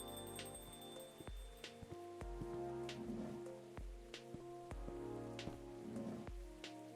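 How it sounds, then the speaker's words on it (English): Heavy rain in the video game Coffee Talk, a soft steady patter sitting quietly beneath gentle melodic background music with recurring plucked notes. "but it's still raining like crazy"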